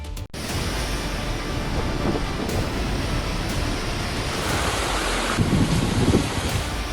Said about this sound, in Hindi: जगह जगह पानी भरा है, तेज हवाएं चल रही हैं।